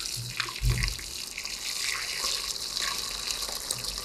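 Boiling water being poured into a jar to make milk tea, a steady close splashing pour that runs unbroken from start to finish.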